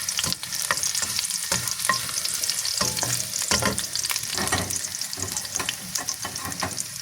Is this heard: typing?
no